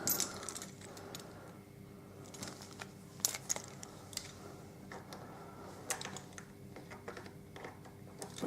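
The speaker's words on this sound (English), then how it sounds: "There's about 6 million keys on this" A large bunch of keys on a fob jangling and clinking in short irregular bursts, fairly quiet and close, with faint ticking metallic taps in a quiet room.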